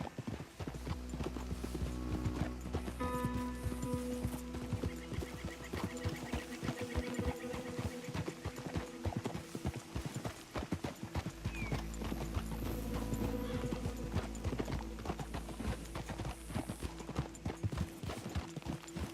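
A horse's hooves clip-clop at a steady walking pace in Red Dead Redemption 2, close and continuous. A neigh or whinny and faint game music sound in the background.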